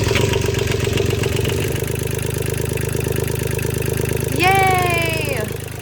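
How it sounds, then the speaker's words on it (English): A sailboat's marine engine starts up and runs at a steady, loud, close idle with a rhythmic low throb and clatter, while a rising whistle-like tone sweeps in briefly near the end. "Okay, we're starting the engine."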